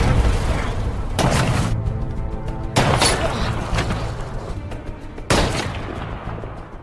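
Several loud gunshots crack out at irregular intervals over a rumbling, chaotic battlefield background, with sharp broadband bursts standing out clearly.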